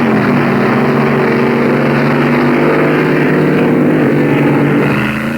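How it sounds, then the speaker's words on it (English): A 1965 drag racing car, the Hurst's Hemi Underglass, roars with a loud, continuous engine drone that holds steady throughout without any break. "Some unintentional wheelies and one intentional one with Wild Bill Shrewsbury at the controls of the Hurst's Hemi Underglass"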